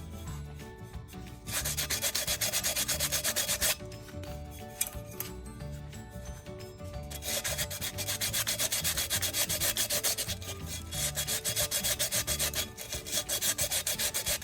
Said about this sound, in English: Sanding this down like this